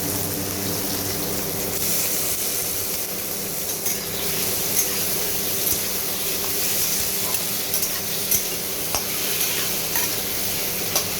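Green chillies and tomatoes fry in a pan with a dense, steady sizzle close by, broken by small scraping and tapping sounds from stirring throughout, with no speech.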